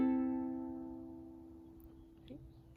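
A lone plucked ukulele note rings out and fades over a few seconds, quiet and close, with a faint soft tap near the end.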